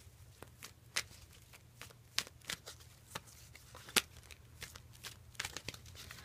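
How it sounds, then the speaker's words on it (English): Soft, close shuffling of tarot cards, with irregular riffling snaps and taps scattered throughout and no talking. "I'm shuffling."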